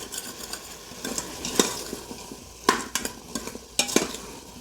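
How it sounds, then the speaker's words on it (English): Vegetables for veg and paneer biryani are stirred in an Instant Pot, a spoon scraping and tapping the pot in a few sharp bursts over faint sizzling, close and fairly quiet, with no talking. "Just a quick stir. Just deglaze the pan."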